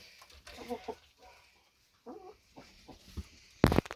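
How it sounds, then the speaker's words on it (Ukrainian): A rooster crows a few times at a distance, followed by a sharp, louder burst of clucking near the end, with quiet farmyard background. "А це там півень."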